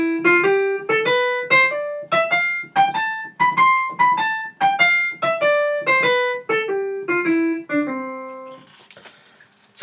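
Straight, square dotted-quaver jazz phrase played on a sustained melodic instrument, a run of evenly spaced long-short notes rising and falling in pitch, close and clear with no talking, ending in a brief noisy release.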